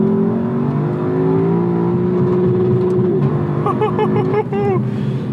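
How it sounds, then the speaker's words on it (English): A 2018 Lexus LC500 accelerates hard on the road. The loud engine note climbs steadily, then breaks as a gear changes, with a voice briefly heard over the engine. "Let's do a pull."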